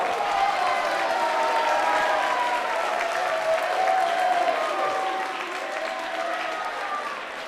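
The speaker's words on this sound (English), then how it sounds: "even the girls selling beer stood up and applauded with that one" A wrestling crowd breaks into sustained applause and scattered cheers after an acrobatic move, a dense, steady wash of clapping that fades slightly toward the end.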